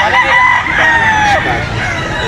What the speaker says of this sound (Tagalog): Pakita na natin yung mga manok ni Boss Albert.